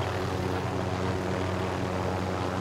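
Steady, loud drone of a helicopter flying nearby in a video game. It holds a continuous whir throughout with no talking.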